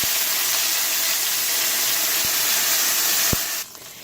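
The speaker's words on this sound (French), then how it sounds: "je vais tout simplement déglacer avec le vinaigre" Vinegar hits a hot pan after lamb neck has been browned and fills it with a loud, even hiss and sizzle for a few seconds, broken by two faint ticks, then drops off abruptly.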